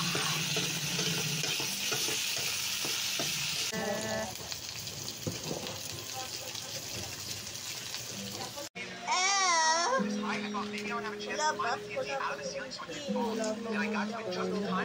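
Tofu and pork frying in a pan are stirred, a steady sizzle with scraping under music and background voices, then a spoken voice talks over the cooking noise.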